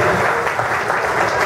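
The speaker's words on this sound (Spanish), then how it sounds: "Un aplauso, por favor" Audience applause at a Círculo Mercantil ceremony as a gift is presented to a music group's director: a loud, dense and steady wash of many hands clapping, close and continuous, with no talk over it.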